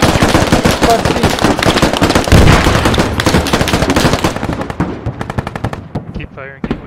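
Rapid bursts of automatic rifle fire and single gunshots from the video game Squad crackle loudly and almost continuously, thinning out toward the end, with voices shouting over the shooting.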